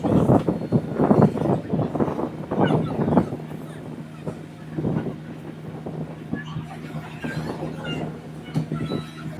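A boat service ride on the Alappuzha backwaters, a steady engine rumble with a low hum and wind buffeting the microphone, while people talk over it close by.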